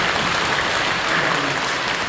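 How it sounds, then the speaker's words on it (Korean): A church congregation applauds to welcome first-time visitors during a Thanksgiving Sunday service, a steady, even wall of clapping throughout. "박수로 환영해 주시죠"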